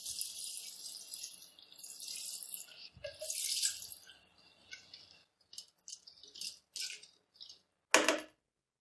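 Water poured into a cooking pot while making beef pulao, a splashing, trickling stream in uneven bursts with small rattles and clinks of the vessel, quiet and close with no talking.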